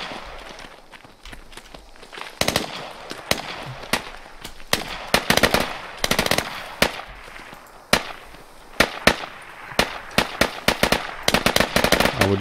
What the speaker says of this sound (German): Hier wird scharf geschossen.